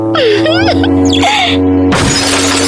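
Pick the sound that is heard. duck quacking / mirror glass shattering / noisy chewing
mirror glass shattering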